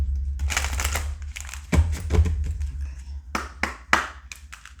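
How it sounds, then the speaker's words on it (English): A deck of tarot cards is shuffled by hand in a series of quick riffling bursts and sharp snaps, close and crisp over a low steady hum, with no talking. "One more shuffle."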